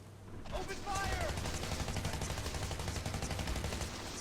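Sustained gunfire from the Renegade X video game, a dense continuous barrage of rapid shots that starts abruptly and carries on loud throughout, with brief whistling streaks near the start.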